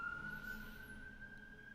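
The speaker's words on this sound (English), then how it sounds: "I hear a siren, and I don't want that to bother me or you." An emergency vehicle siren outdoors, heard faintly from a distance as a steady high wail under a quiet room background, with no talking.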